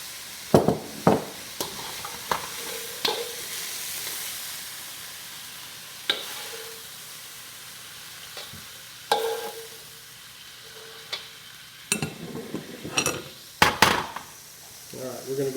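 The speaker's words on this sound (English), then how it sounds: "Now it's easier to fry this in batches like this." Chicken pieces sizzling and frying in hot oil in batches for cashew chicken stir fry, a steady crackle punctuated by sharp clinks and scrapes of utensils against the pan.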